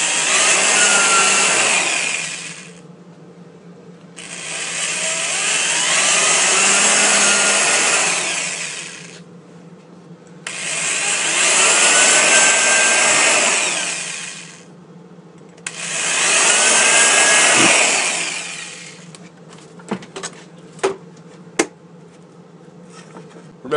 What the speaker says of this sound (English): Here we are drilling the holes for the base plate and the side walls of the birdhouse.